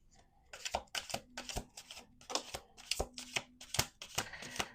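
Tarot cards being shuffled up close in a series of quick riffling bursts, about a dozen in rapid succession with short pauses between them.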